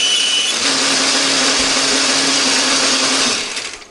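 An electric blender whirs loudly and steadily, grinding candlenut, garlic, shallots and pepper with a little water into spice paste, then winds down at the end.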